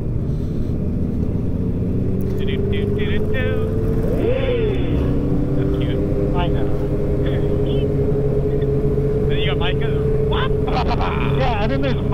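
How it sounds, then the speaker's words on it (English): Yamaha MT-07 motorcycle engine idling with a low steady rumble and a small, brief rev under wind noise and people talking, on an offroad ride near a mossy bridge. "I'm gonna do a little baby rev."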